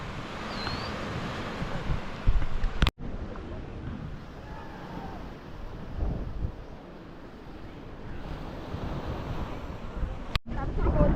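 Sea surf and strong wind blow steadily at Vattakottai Fort in Kanyakumari, with the sea on both sides. Continuous wave wash and gusty wind noise buffet the microphone throughout.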